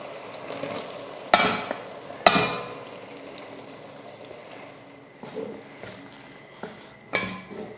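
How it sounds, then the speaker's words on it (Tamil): Rice is stirred into tamarind paste in a pan over a low flame: a low, steady sizzle runs throughout, punctuated by several sharp scraping strokes of a spoon against the pan at irregular intervals. "இந்த டைமில் நம்ம சாதத்தை இதில் போட்டு கிளறிக்கலாம்"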